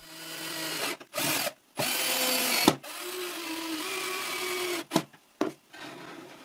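A power drill drives screws into a piece of plywood, whirring in several close, loud bursts of a second or two each, separated by short pauses and brief clicks as the bit is repositioned.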